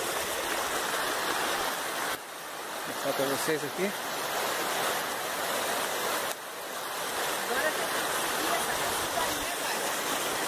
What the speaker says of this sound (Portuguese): Vai ter um riachozinho aqui. Bem gelado.